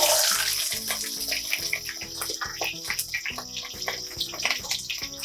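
About ten finely chopped small onions and three garlic cloves sauté in a pan for a tamarind curry, making a steady close sizzle with scattered crackles and pops and no voices.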